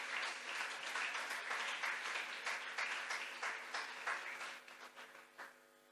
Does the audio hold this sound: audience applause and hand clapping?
yes